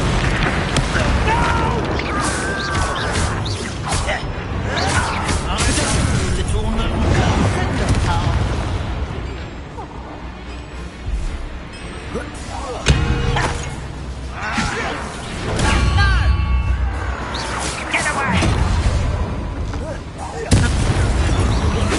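Repeated spell explosions from the Bombarda curse in the Harry Potter Legacy video game, a dense run of loud booming blasts and bursts over about twenty seconds, with talk mixed in among the impacts.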